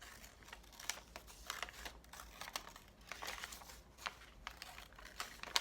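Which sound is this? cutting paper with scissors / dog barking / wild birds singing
cutting paper with scissors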